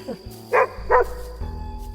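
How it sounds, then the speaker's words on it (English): A dog barks twice in quick succession, short sharp yelps over a steady low background hum. "the distant sound of a dog barking"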